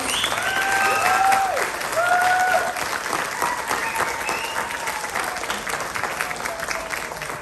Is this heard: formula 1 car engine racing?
no